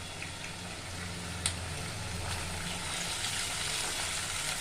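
Washed chicken sizzling as it goes into golden brown onions in a pan, a steady even hiss of frying throughout with one brief clink of a utensil.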